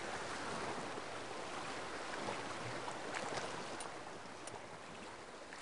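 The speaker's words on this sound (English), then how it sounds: "just listen to the sound of the water below" The Sacramento River flows steadily, a broad continuous wash of rushing water, with no voices and only slight swells in loudness.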